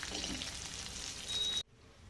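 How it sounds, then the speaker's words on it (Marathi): Ingredients for a curry leaves chutney, with fried onion among them, sizzle steadily as they sauté in a hot pan, then the sizzle cuts off abruptly near the end, leaving near silence. "आता हे मी परतून घेते आणि मग काढून घेते"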